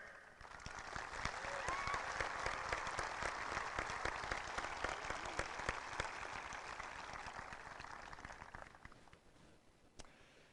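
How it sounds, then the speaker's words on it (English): Audience applauding for the class of 2020 seniors at a high school graduation ceremony, a steady, dense roar of clapping from a large crowd that holds throughout and tapers off near the end. "Let's give the seniors one final round of applause to commend them on their accomplishments."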